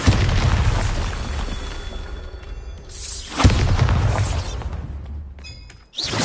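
Spell explosions boom in the Hogwarts Legacy video game, with a loud blast and a crumbling crash, then a second heavy impact midway, followed by debris and a sudden cutoff before another burst begins.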